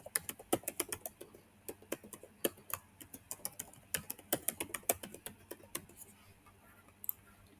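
Rapid, irregular keystrokes on a computer keyboard as administrator credentials are entered, a steady run of sharp close clicks with short pauses, alone without talk.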